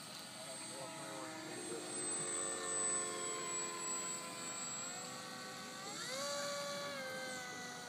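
A model P-51D prototype aircraft engine whines at full throttle, a thin high buzz that rises and falls in pitch as the plane passes, heard at a distance with voices talking over it.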